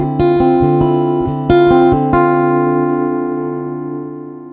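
Acoustic guitar through a Zoom A3 preamp with the mids boosted, a handful of strummed chords played close and full, the final chord left ringing and fading out, no voices.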